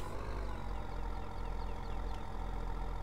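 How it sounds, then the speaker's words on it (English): Modded Puma tractor engine from a farming video game, a steady low idling rumble with a continuous deep drone that holds constant throughout, no talk. "He released a Puma edit with the sound effects on it, and I thought it would sound good on this tractor"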